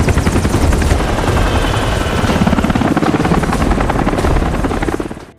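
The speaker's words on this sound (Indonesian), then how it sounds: "Tanpa diduga, beberapa helikopter mendarat mencegat mereka." Several military helicopters landing: loud, close, continuous rotor thudding and turbine whine filling the scene, fading out abruptly at the end.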